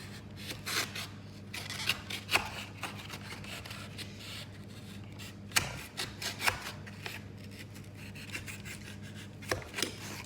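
Scissors snip and rub through a pressed-card egg carton, cutting off a strip for a craft poppy wreath: soft rasping scrapes with a few sharper snips spaced irregularly, close and fairly quiet, with no talking.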